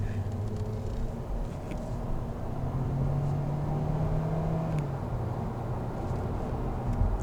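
A 2017 Kia Forte S pulls away under throttle in regular drive mode, heard from inside the cabin as a steady engine drone whose pitch climbs and then levels off over several seconds, with no talking.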